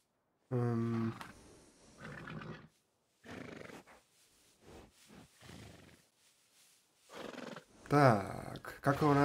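A horse whinnies loudly in Red Dead Redemption 2, a long neigh at the start and another strong whinny near the end, with game sounds and other noises between.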